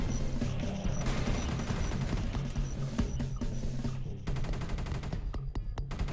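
Rapid automatic gunfire from the sci-fi shooter Space Beast Terror Fright, dense continuous bursts of shots with a heavy low rumble, briefly breaking off and resuming as sharp separate rounds.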